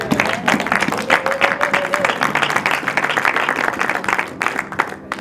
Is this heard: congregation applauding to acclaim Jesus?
yes